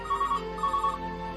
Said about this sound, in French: Oh, ce téléphone, ça n'arrête pas